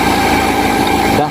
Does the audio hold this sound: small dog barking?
no